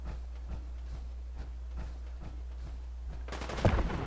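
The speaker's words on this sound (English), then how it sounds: "And I hear shooting." Gunfire in the Fallout 4 video game: faint, distant shots pop sporadically over a steady low hum, then a louder, denser burst of firing closes the clip.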